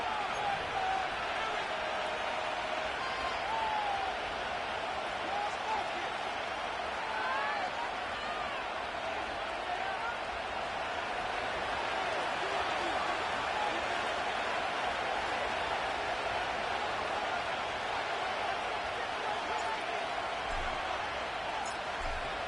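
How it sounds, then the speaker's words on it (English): Stadium crowd cheering in the Madden 25 football video game at Nissan Stadium in Nashville, a dense, steady roar of noise that holds at a constant loud level throughout. "The crowd is definitely ready."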